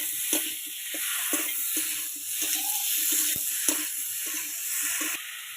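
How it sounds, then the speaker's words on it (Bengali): Pre-fried vegetables hit a hot pan of spiced fish curry base, giving a steady sizzle with scattered stirring clatters and scrapes close by, no talking. "আমি এবার ভেজে রাখা সবজিগুলো দিয়ে দেবো"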